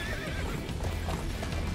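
Horse hooves clip-clop steadily while a horse whinnies in a Attack on Titan video game, a dense, loud stretch of game sound with no talking.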